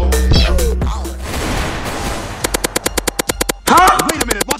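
Rapid bursts of gunfire in the Roblox game Brookhaven, a fast regular string of sharp shots following a stretch of game noise and voices, loud and close.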